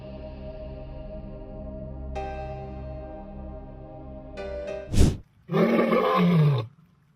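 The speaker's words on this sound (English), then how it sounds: "This is the roar of an African lion." An African lion roaring: low, drawn-out groaning calls build up, then a sharp burst and a final loud, rough roar, close and isolated.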